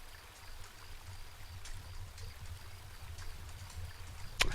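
A river flows in a video game, a soft, steady rushing and trickling that stays fairly quiet throughout, with one sharp click just before the end.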